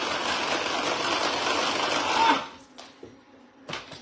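An electric mixer whips cream in a home kitchen with a steady, dense whirring drone that cuts off abruptly after a couple of seconds, leaving faint clinks and handling noise.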